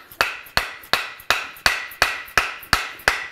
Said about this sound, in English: tap this in as far as I possibly can